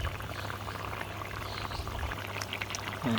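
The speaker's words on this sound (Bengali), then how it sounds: "তরকারিতে আমার বলক এসেছে, এখন আমি ভেজে রাখা মাছগুলি দিয়ে দিব" A pot of hilsa fish curry with vegetable stems and pointed gourd simmers at a boil, giving off a steady, faint bubbling hiss with a low background hum and no talking.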